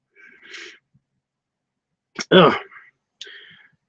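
One abrupt, forceful sneeze bursts out up close in a quiet indoor room, with brief breathy sounds just before and after it.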